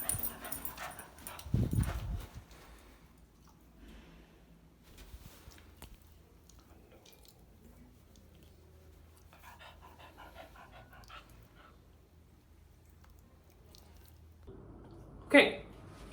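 An old dog runs down an indoor hallway, panting softly and intermittently at close range, with a few brief thumps and a sharp knock near the end.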